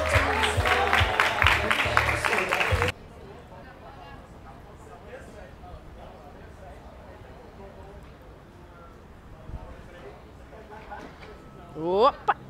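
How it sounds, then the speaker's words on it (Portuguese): Loud applause and cheering from a crowd at a men's 67–73 kg competition, dense for about three seconds before cutting to a quieter room with faint voices. "Salve de palmas!"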